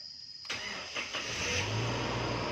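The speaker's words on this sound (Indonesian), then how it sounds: "saat kita menyalakan mobil starter," A 2011 Innova E engine cranks briefly after a short silence, then catches and settles into a steady idle, heard up close with no talking.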